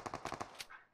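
Rapid automatic gunfire in the PUBG Mobile battle royale game, a quick burst of about six sharp shots followed by a fading tail, fairly close.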